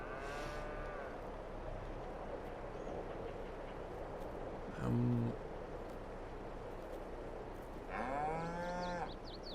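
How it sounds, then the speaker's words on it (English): Cattle in the Farming Simulator 22 game moo loudly at the start and again near the end, long harmonic calls over a steady low farmyard background with a brief mechanical thump between them. "Yes, moo cows, I just don't know why you're all escaping."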